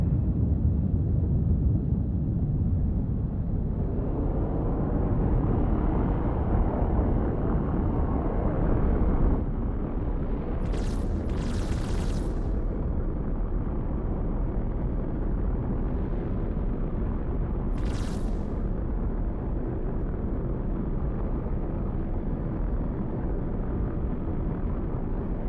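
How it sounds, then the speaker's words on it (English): Spaceship cannons in a video game firing in staggered volleys, a dense, roaring barrage that swells after a few seconds and stays loud and continuous, with a couple of sharp bright bursts cutting through near the middle. "there's just nothing like the sound of these cannons."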